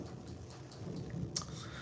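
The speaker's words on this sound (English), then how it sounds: "Sorry if you guys hear a lot of rain outside my apartment." Steady rain falls outside an apartment, a faint, even hiss with one brief, sharper spatter near the end.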